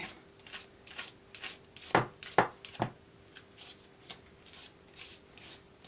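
Knife slicing vegetables such as cucumbers and zucchini for a winter salad, a steady run of crisp chops on a cutting board with three louder cuts near the middle, close and clear with no talking.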